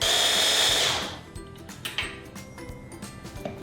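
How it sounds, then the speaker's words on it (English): A kitchen blender whirs loudly while blending fruit for popsicles, then cuts off after about a second. Quieter clinks and handling noises follow. "I need a bigger blender."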